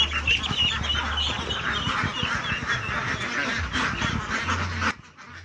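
A flock of ducks quacking continuously and fairly close, a busy overlapping chatter of calls that cuts off abruptly near the end.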